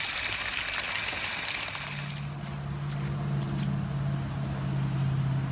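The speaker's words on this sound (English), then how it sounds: "we have the water flowing" Water rushing through a well acid neutralizer line, a steady, loud gushing flow joined partway through by a low, sustained humming tone.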